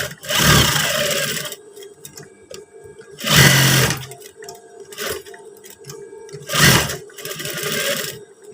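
A sewing machine runs in three short bursts while stitching the side seam of a pair of trousers, each run a loud rapid whir separated by quiet pauses.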